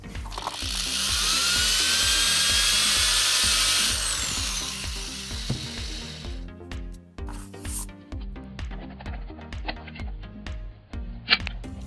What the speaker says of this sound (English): just put a little bit of pressure on the drill bit to bring this hole up